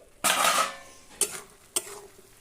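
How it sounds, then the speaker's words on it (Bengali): A metal lid lifted off a pot of cooking spinach in a village kitchen, a bright clatter followed by a brief hiss, then two sharper clinks of utensils against the pot, close and without talk. "এরপর আমি ঢাকাটা খুলে নিচ্ছি"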